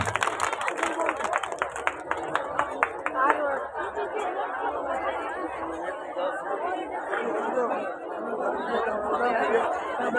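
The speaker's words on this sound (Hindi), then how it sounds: "जोरदार ताली बजाओ हमारे भाई साहब के लिए।" Crowd at a village bhajan evening for the Od community in Indira Nagar claps for a guest, sharp distinct claps in the first few seconds, then lively chatter and talk filling the rest.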